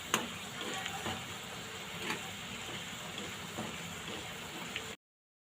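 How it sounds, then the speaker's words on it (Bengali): Chopped onions frying in oil for a Bengali kochu vorta, a steady soft sizzle with faint crackles and occasional stirring clicks, continuous for about five seconds with no voices. "পেঁয়াজগুলো আমি এখন তেলের মধ্যে দিয়ে দিব।"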